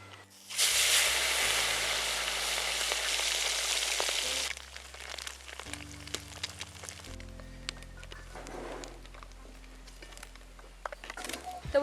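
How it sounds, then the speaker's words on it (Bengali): Small puti fish drop into hot oil in a wok on a clay stove, bursting into a loud, steady sizzle for several seconds before the frying settles into quieter crackling and spatter. "তেল গরম হয়ে গেছে, এবার মাছগুলোকে তেলের মধ্যে দিয়ে দেবো।"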